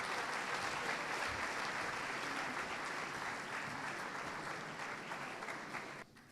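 An audience claps warmly to welcome Dr. Naledi Pandor at a speaking event, steady loud applause from a crowd that fades slightly before stopping abruptly.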